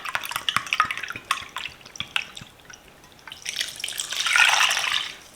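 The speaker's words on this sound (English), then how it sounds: "I'm going to use 5 cups of sugar and 2 cups of apple cider vinegar." Sugar and apple cider vinegar poured into a pickle jar: scattered close drips and trickles, then a steady liquid pour swelling louder near the end.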